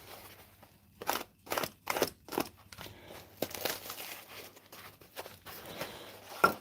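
A parcel being unwrapped up close, with a run of sharp crinkling and tearing bursts of packaging that come in uneven clusters over steady low background hum.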